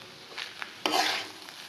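Restaurant-style fried rice is tossed and stirred in a pan, giving brief scraping strokes and a short burst of sizzle near the middle, fairly quiet and close.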